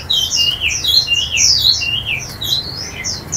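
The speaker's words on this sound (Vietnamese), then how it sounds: "con này rất là xuyên hót anh em, hót hót hót hoài luôn à" A caged Tiểu Mi songbird sings a lively run of quick, bright chirping phrases, close and loud, repeating in steady bursts with no talk over it.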